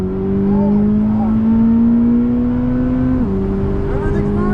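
Twin-turbo 2025 Corvette C8 ZR1 accelerating hard, a loud sustained engine tone climbing steadily in pitch, one sharp drop at a gear shift, then pulling again, with excited voices shouting over it.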